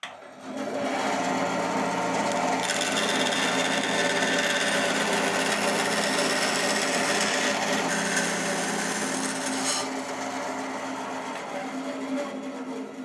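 Wood being cut and trimmed down to a marked line on a Gretsch 6120-style guitar build, a steady continuous rasping, buzzing tool noise close up that runs almost the whole time and eases off slightly toward the end.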